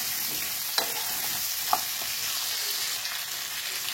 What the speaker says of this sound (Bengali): কেটে রাখা সবজি দিয়ে ভালো করে নাড়াচাড়া করতে হবে, যাতে সবজিটা একটু ভাজা ভাজা হয়